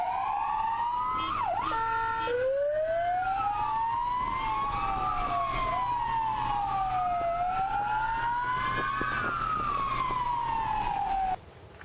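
An emergency vehicle's siren wails on a highway, sweeping up and down in long continuous cycles with a steady road rumble beneath, moderately loud and uninterrupted until it cuts off near the end.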